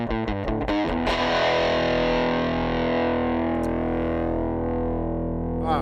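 A heavily distorted electric guitar with humbucker pickups, played through a Headrush amp model, plays a few quick chugging notes, then a chord rings out and sustains with a long reverb wash.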